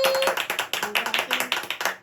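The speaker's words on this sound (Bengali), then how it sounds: "হাততালি হাততালি হাততালি।" A small group claps hands in a quick, steady rhythm at a pre-birthday celebration, about a dozen sharp claps close by, with a brief tonal sound at the start.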